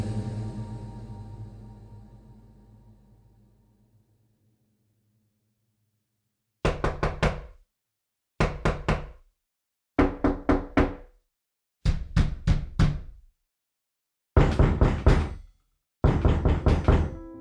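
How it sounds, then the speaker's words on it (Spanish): Knocking on a door, heard as six separate bursts of rapid raps that follow a fading low rumble and a stretch of silence. The knocks are loud and close, with nothing else heard. "Los golpes a la puerta te despiertan del sueño."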